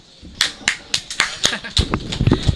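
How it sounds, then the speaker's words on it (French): A person claps by hand about ten times in a steady rhythm at a literary café gathering, the sharp claps close and distinct before fading into softer sounds near the end. "Oui, j'applaudis"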